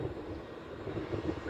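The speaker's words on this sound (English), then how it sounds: "So, I do know this is a Southwest 737 though," Southwest Airlines Boeing 737 at Honolulu airport, a steady distant jet engine rumble and roar heard alone in the open air.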